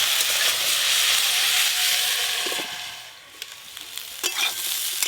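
Vegetables fry in a pan with a loud, continuous sizzle, stirred now and then with scraping clatters, the hiss easing briefly partway through before resuming.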